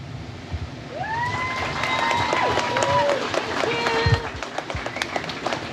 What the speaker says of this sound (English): I'd like you all to give these people a round of applause